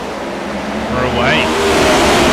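Race car engine in a racing video game roaring steadily and loud, with a rising whine of the motor swelling toward the end.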